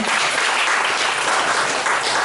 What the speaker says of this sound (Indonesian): Tepuk tangan buat Mbak Tini.